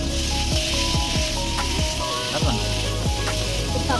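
Potatoes frying in a pan with turmeric and salt, a loud, steady close sizzle with occasional stirring scrapes running throughout, no voices.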